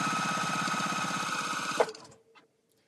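A sewing machine chain pieces quilt fabric, running fast and steady with a rapid mechanical whir and needle chatter, then stopping abruptly with a small clunk and near silence.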